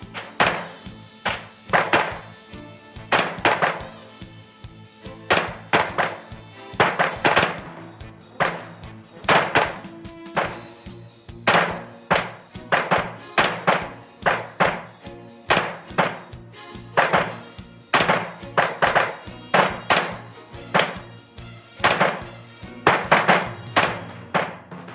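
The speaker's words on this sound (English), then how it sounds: "here's a clip of me shooting at 10 yards and trying to shoot as accurately as possible" Pistol shots fired one after another at a target 10 yards away, sharp loud cracks repeating in irregular bursts throughout with no talking.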